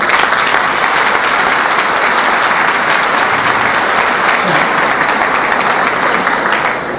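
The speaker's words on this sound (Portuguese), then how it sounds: "uma salva de palmas." Audience at a women lawyers' conference applauding: dense, sustained clapping from many hands that holds steady and fades slightly at the very end.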